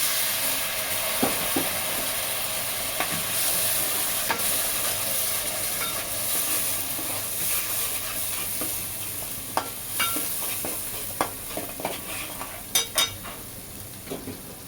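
Chicken curry masala sizzles loudly in the pan after a splash of hot water, with a steady hiss throughout and sharp metal spoon scrapes and clinks from stirring toward the end.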